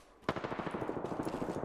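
Automatic gunfire from an enemy squad in the battle royale shooter Apex Legends breaks in abruptly after a short quiet moment, then keeps up as a steady rapid burst of loud, evenly spaced shots with no talk over it.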